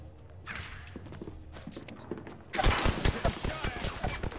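Gunfire from the gold Flatline rifle in the Apex Legends video game: dense bursts of loud, close shots start midway, following scattered thumps and softer game sounds, with no talk.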